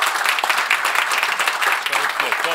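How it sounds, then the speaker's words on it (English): An audience at a science summit gives a panel sustained, even applause, a steady wash of many hands clapping, with some voices faintly heard underneath. "I think we should give them a warm applause."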